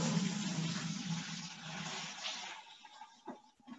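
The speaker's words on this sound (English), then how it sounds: "I'm gonna hold a boiling hot strainer while he pours." Boiling pasta water, left over after cooking pappardelle, poured through a hot strainer into a bucket: a short gushing splash that thins and trails off into drips.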